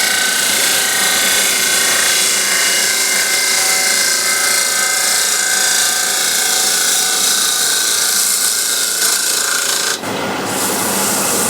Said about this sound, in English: so I'll just use the gouge one more time